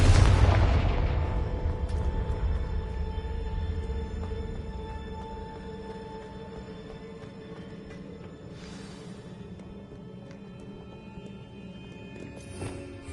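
A Confringo blasting curse goes off in Hogwarts Legacy with a loud burst right at the start. The boom decays into a long, droning, ringing tail, and a shorter crackling flare rises near the end.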